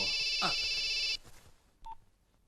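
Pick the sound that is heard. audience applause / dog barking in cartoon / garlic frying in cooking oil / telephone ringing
telephone ringing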